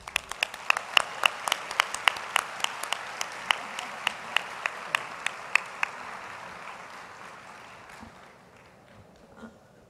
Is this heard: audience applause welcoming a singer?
yes